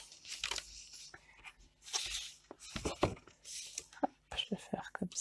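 Adhesive backing strip peeled off paper while making an A4 mini album, giving short crackling tearing rips close up between soft spoken French and whispering.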